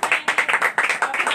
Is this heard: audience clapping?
yes